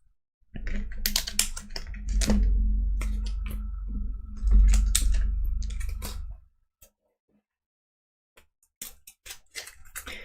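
A deck of cards for the board game Kingdom Death: Monster is shuffled by hand, a close burst of riffling clicks and flutters lasting several seconds, then quiet with a few scattered taps.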